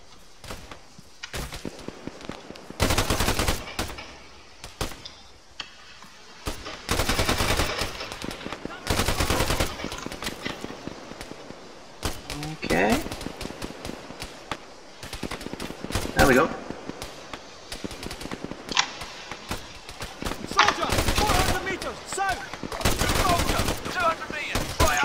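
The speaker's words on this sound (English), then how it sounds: "Okay, open fire." Automatic weapons fire in an ARMA 3 firefight, repeated bursts of machine-gun and rifle shots rattling across the scene, some loud and close, others fainter, with someone talking at times between volleys.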